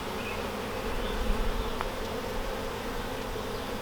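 Honey bees in a new hive during an inspection, a dense continuous buzzing hum heard close and steady throughout, with no voices.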